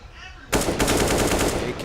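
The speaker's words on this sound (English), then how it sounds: "AK's tapping at a distance now." Rifle fire from an AK in Counter-Strike, a fast run of sharp shots repeating steadily from a distance, loud and continuous after a brief quieter moment at the start.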